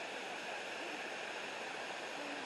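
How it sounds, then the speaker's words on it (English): Steady, full roar of a waterfall close by, continuous rushing water without breaks or voices. "They're trying to see if they can get to the waterfall."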